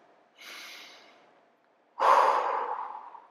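Two slow breaths during a yoga strap pose held while lying on the floor: a softer inhale, then a pause, then a louder, rushing exhale, close and alone.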